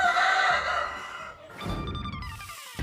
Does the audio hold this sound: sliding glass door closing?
no